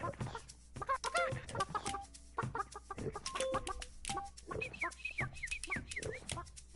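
Chicken in the video game Burly Men at Sea, a run of short clucks and squawks in irregular bursts, fairly close and moderately loud, with no voices over them.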